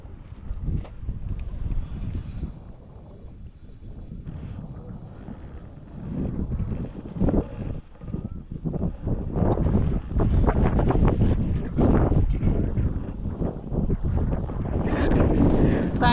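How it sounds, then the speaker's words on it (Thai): Strong wind gusts across an old fishing pond, buffeting the microphone in loud, rough rushes that swell and build toward the end. "ลมแรงครับ"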